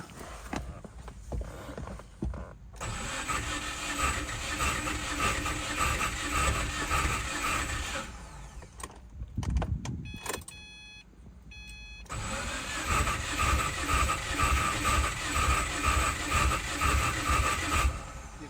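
An abandoned Subaru WRX being started: a steady mechanical cranking and engine whir runs for several seconds, breaks off with brief clicks and a short pause, then resumes, close and fairly loud with no talking.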